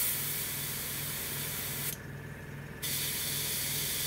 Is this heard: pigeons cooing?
no